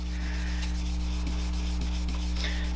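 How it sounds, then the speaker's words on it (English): A blending brush rubbing ink onto a paper card, giving a soft, steady scratchy brushing in quick repeated strokes, close and quiet, with no talk. "Put that on with a blending brush also."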